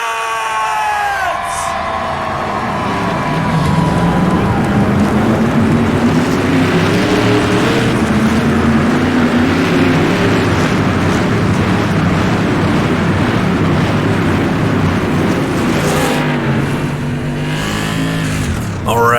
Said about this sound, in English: So drivers, start your engines!